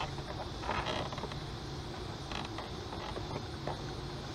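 An idle air control valve on the 4.0L intake of a Ford Explorer is twisted into its seat, giving close, faint creaking and clicking mechanical scrapes over a steady background hiss.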